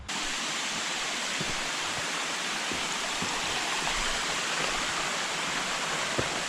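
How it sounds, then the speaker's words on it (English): Klokovsky Waterfall on Sakhalin Island roars as a steady, loud broadband rush of falling water, heard up close and continuous throughout with no voices. "So here we are, right in front of the waterfall."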